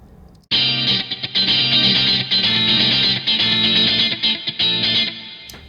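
A synthesized, heavily effected sound with Space Designer reverb in Logic plays loud and dense for about five seconds after a sudden onset, pulsing slightly in level, with no talking.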